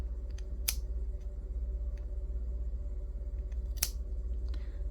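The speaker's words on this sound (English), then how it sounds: "now you want to grab your scissors and cut the short end of each of the strands." Scissors snip through the short ends of yarn strands, two crisp close cuts a few seconds apart over a steady low hum.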